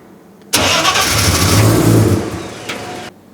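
A Nissan R32 GT-R race build with a full carbon body and rear mufflers fires up for its first start: a loud, abrupt catch into a rough, rumbling idle that runs for about two and a half seconds and then cuts off.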